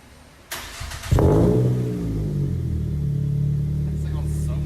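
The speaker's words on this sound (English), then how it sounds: "I got a 3-inch catback exhaust from 2J Racing, and it sounded really good." A car with a 3-inch catback exhaust starts up, revs sharply with a deep exhaust roar, then settles into a loud steady rumbling idle nearby.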